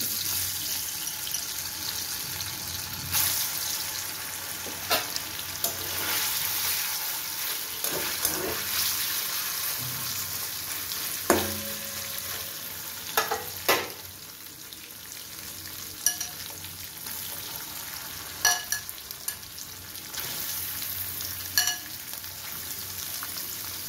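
Paneer pieces frying in hot white oil in a kadai, a steady soft sizzle with scattered clicks and scrapes of stirring and utensil knocks throughout, no voices.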